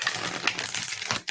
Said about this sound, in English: do a wee riffle shuffle.